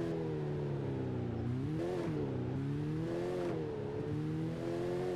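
A car engine in Gangster New Orleans drones steadily and rises and falls in pitch as the car revs and speeds off, close and continuous with no talk over it.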